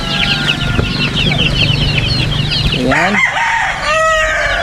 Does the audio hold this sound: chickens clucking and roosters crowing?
yes